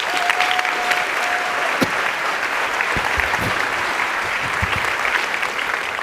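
An audience at a school convocation keynote claps in sustained, dense applause that fills the room evenly for about six seconds, with a few louder individual claps standing out.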